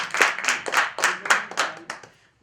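A seminar crowd claps in about seven evenly spaced beats, a unified rhythmic round of hands that fades into silence near the end.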